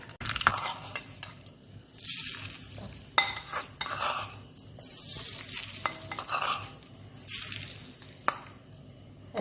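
Crushed chilli garlic chicken fry is stirred in a pan, with repeated scraping strokes of a spoon over a steady, close sizzle of frying and no talking.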